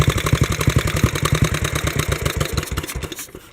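A wartime BMW R35 motorcycle with a Bing carburetor and an R4 cylinder idles close by in a steady, fast, chugging pulse that falters and fades near the end.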